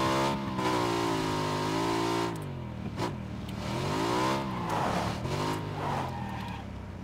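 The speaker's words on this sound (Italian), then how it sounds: "Mi si è incastrata la moto nel muretto." A motorbike engine revs in the PUBG video game while the bike sits stuck against a low wall, a loud droning whine rising and falling in pitch with brief sharp cuts and scraping bursts.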